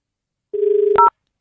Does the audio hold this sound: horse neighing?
no